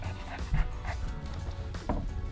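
Puppies play in a backyard, giving several bursts of barks and yips amid scuffling, fairly close and continuous over a noisy outdoor background.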